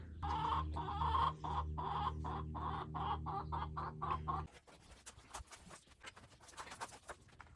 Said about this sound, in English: Oz, my chicken's stalking me.